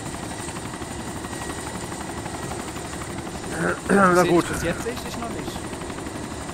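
Steady helicopter rotor drone from the video game DayZ runs throughout at moderate level, with someone speaking briefly over it partway through.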